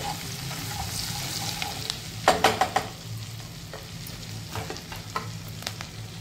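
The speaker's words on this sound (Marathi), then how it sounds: "व्यवस्थित परतवून घेऊया आपण।" Chopped green chillies sautéing in a hot pan, a steady close sizzle with a few sharp stirring scrapes in the middle, no voices.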